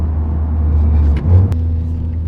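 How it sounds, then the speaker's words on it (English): A Honda Civic Type R (FK8) engine hums low and steady from inside the cabin, dipping briefly during a first-to-second gear shift before resuming its drone. "I'm driving the car now, and honestly, I just did a first to second gear"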